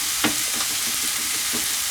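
Chinese stir-fry sizzling in a pan, a steady hiss with a few clear scrapes of the spatula across the metal, close and fairly loud, with no talking.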